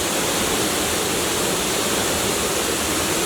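Kima Atas waterfall near Manado roars as a steady, dense rush of falling water, loud and close, with no break or other sound throughout.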